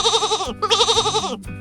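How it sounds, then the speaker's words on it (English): A sheep bleats twice in quick succession, loud and close, each call a wavering nasal cry, followed by a brief third sound. "Sheep."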